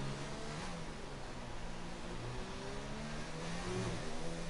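A Formula 2 car on the French GP track in a racing video game, braking into a chicane. Its engine sounds as a steady, close, continuous roar whose pitch drops and rises through the corner, with no talking.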